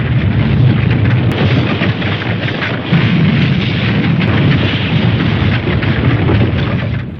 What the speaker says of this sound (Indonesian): Satu-satunya cara adalah dengan meledakkan tebing yang mengelilingi tempat itu.